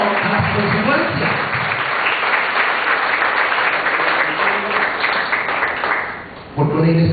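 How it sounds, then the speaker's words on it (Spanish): A church congregation bursts into sustained loud applause and cheering that fills the room for several seconds, with a preacher's voice heard briefly at the start and again at the end. "Dale un aplauso al Señor."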